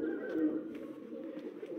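Low-flyer pigeons coo steadily at a breeding loft while the young birds fly in a flock on their ninth day of flying, a soft continuous murmur of calls close by.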